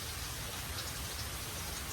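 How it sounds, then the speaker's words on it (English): Steady rain falls continuously during a morning yoga session, a dense, even hiss with a soft low rumble underneath, close and uniform throughout with no voices. "listening to the rain and doing yoga"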